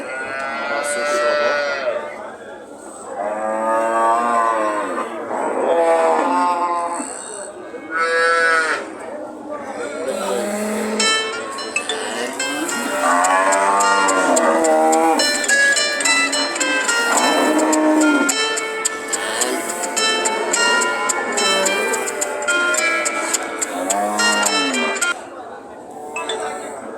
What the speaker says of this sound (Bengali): দর্শক বাছুর সহ গাভীও এখানে পাওয়া যায়। বাছুর সহ গাভী।